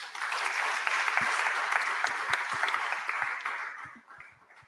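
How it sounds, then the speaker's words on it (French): Audience applause at a conference session on autonomous vehicles and commuting, steady dense clapping that fills the hall for about four seconds before thinning out toward the end. "Je pense qu'on peut remercier nos intervenants par quelques applaudissements."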